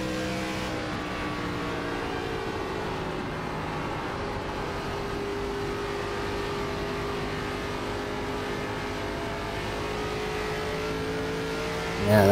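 Race car engines in an iRacing ARCA race at Homestead-Miami drone steadily at high revs, a continuous layered roar of several cars with a sudden louder surge at the very end.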